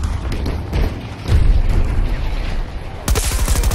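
Grenade explosion amid gunfire in Battlefield 2042, with heavy thumping booms and rapid shots throughout, a sharp burst of fire near the end, and a player's voice calling out.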